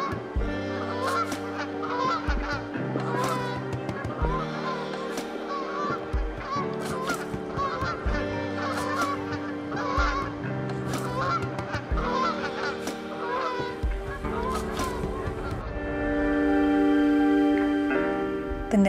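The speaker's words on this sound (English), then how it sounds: "The geese are migrating." A flock of migrating geese honks repeatedly overhead, a dense, layered chorus of calls sustained throughout with a steady hum beneath.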